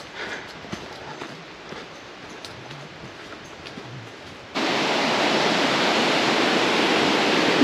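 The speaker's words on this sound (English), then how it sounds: "Everywhere, it's just waterfalls." A steady roar of rushing water, quieter at first and then suddenly much louder and fuller, like standing close to a waterfall.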